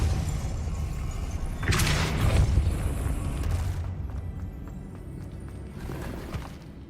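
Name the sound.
Depulso force spell cast in Hogwarts Legacy video game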